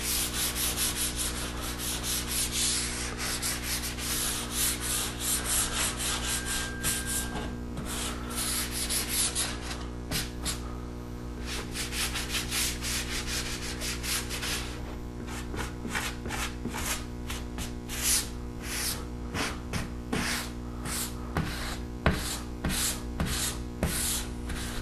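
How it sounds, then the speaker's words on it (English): An extra fine sanding sponge rubs across a drywall corner bead and perimeter in continuous, close scratchy strokes, steady in rhythm with brief pauses between passes and no voices. "Now we're ready to use fine, extra fine sanding sponge to sand in the perimeter as well as the bead itself."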